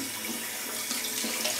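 Hot water running from a bathroom sink tap in Greece, wetting a shaving brush and shaving stick: a steady, close, broadband rush of flowing water alone, with small splashy variations as the brush moves under the stream.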